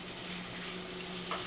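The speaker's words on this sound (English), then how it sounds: "you kind of hear that sizzle already. I'm going to go ahead and add in my chicken" Chicken sizzles in butter and olive oil in a pan, making a steady close hiss with a soft low hum beneath, brief and unbroken.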